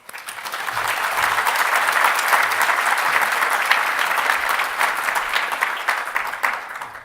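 An audience at a Georgia agricultural event applauds to welcome a speaker, steady dense clapping that swells quickly, holds loud and even for several seconds, then begins to fade.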